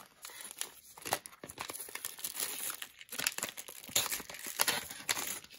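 Plastic wrapping on a mystery package of graded hockey trading cards crinkles and tears open, a continuous close-up rustle with sharper crackling bursts throughout and no talking.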